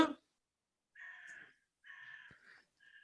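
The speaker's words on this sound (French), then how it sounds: "Il y a un corbeau derrière" A crow caws in three separate harsh bursts, quiet and somewhat distant, with a brief thump near the start and no talk over the calls.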